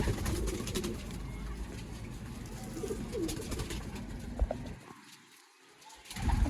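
Sialkoti pigeons coo softly in a loft, low throaty murmurs layered with scattered rustles and wing shuffles, fairly faint and close, briefly dropping quieter near the end.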